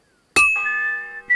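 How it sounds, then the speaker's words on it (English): A bell struck once at a blacksmith's forge in the medieval game Kingdom Come Deliverance 2, a sharp metallic clang that rings on with a sustained tone, close and loud, then a second strike begins. "First bell."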